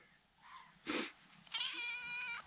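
A kitten lets out a short, bright meow and then a longer, drawn-out tonal meow, both faint against a quiet room with soft background noise.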